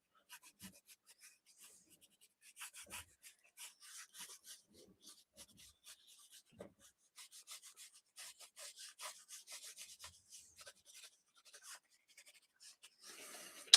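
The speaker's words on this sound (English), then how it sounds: "I've started to really use the side of the pencil again" Pencil shading on paper with the side of the lead, soft raspy rubbing strokes in irregular bursts, quiet and close, with no voices.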